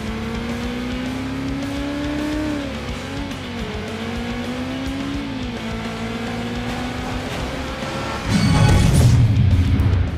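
Racing cars in Burnout Revenge tear through the Angel Valley track, a steady loud engine drone with rising and falling revs, ending in a sudden heavy crash-like burst near the end.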